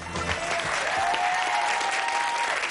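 A studio audience on the 1992 quiz show Blockbusters applauds steadily for a contestant, a full, dense wash of clapping that holds throughout with a faint voice underneath.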